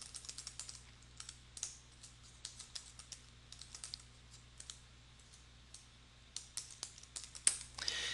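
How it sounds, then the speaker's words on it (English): Repeated tab key presses on a computer keyboard, a series of soft, close clicks at irregular intervals, faint and alone with no talking. "If I keep pressing tab over and over again, it will increase the table."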